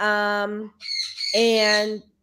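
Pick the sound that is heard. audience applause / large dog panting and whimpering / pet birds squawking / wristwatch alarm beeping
pet birds squawking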